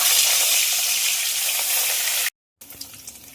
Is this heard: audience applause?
no